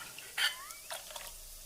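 Water added to a cooking pot for tomato ghee rice, heard as a quick faint splash and a brief liquid trickle with a soft clink, followed by a few small splashes in an otherwise quiet kitchen.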